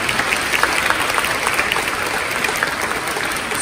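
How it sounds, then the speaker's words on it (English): A high school audience applauds a guest speaker with steady, dense clapping throughout, close and fairly loud with no break. "Give Frank another round of applause for sharing his story"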